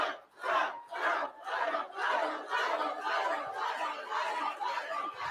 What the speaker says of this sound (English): That's a nice crowd.